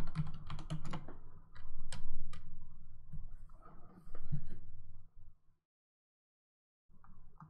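Close, brisk typing on a computer keyboard, with clusters of key clicks that pause briefly, go silent, then resume for a few keystrokes at the end.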